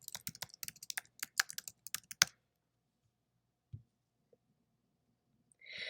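Rapid keystrokes tap out an email address on a computer keyboard, a quick close burst of clicks for about two seconds, then a single soft click and near silence.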